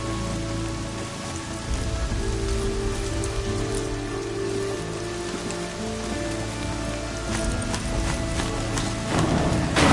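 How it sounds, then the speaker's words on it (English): Steady rain pours down in a dense, continuous patter in the video game Horizon Zero Dawn, with faint hoofbeats and a low hum under it. "Rain's not so bad."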